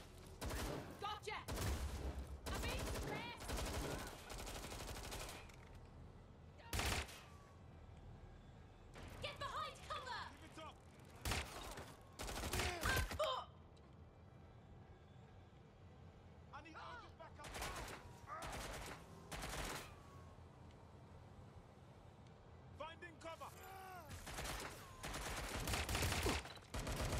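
Repeated bursts of gunfire from the video game Watch Dogs: Legion, loud clustered volleys and single shots spread across the scene, with mechanical clicks and rattles between them.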